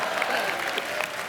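Studio audience applause on a comedy talk show, a dense wash of clapping throughout, loud and steady with a faint crowd murmur beneath it.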